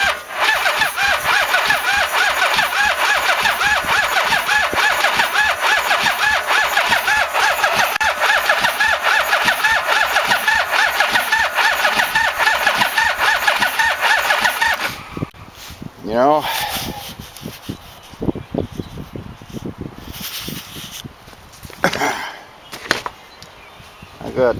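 Engine of a 1989 Yamaha V-Max motorcycle on full choke cranking and chopping loudly and steadily for about fifteen seconds. It then stops, leaving quieter clicks and handling noises, with talk over the top.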